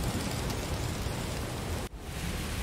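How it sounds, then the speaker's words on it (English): Steady, dense rain falls outdoors with a thunderstorm approaching, a loud continuous wash of drops that briefly dips near the end before resuming, with no voices. "It's raining outside, and by the sound of it, it seems that there's a thunderstorm coming in."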